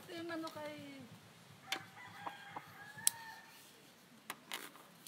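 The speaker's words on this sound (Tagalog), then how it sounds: "Tandang. Ay, tandang." A rooster crows faintly in the distance at the start, followed by scattered clucks and small sounds in an outdoor setting.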